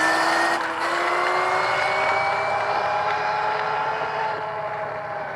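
A Denzel Rush electric motorcycle accelerates in second gear without the clutch, giving a steady, loud, tonal motor whine with layered harmonics that holds for several seconds and then slowly fades.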